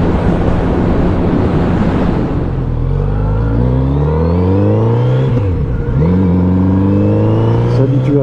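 A Kawasaki Z900 RS motorcycle pulls hard through a bend in fifth gear, its engine note rising steadily under loud rushing wind, with a brief dip before climbing again.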